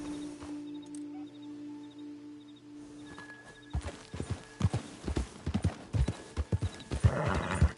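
Hooves clip-clop in a steady walking rhythm in Red Dead Redemption 2, growing louder partway through, with a brief horse whinny earlier over quiet ambient sound.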